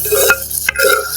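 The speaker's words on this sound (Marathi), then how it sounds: "फोडणीसाठी परत थोडासा कढीपत्ता आपण याच्यात टाकून देऊया." Curry leaves are stirred into hot tempering oil over a tomato base in a Konkan-style prawn curry, giving a short burst of close, loud sizzling broken by two quick scraping stirs.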